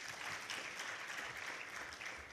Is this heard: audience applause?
yes